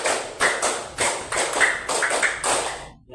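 A class of pupils claps in rhythmic bursts, several loud group claps and short clustered patterns in a classroom, then stopping abruptly at the end.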